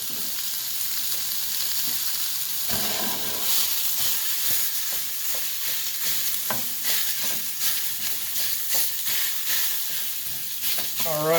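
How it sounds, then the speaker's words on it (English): Ground beef fries in a hot cast iron pan, a steady loud sizzle running throughout with scattered clicks and scrapes of stirring, for a bacon cheeseburger lumpia filling. "We're going to go ahead and take our meat, drop it in there, and"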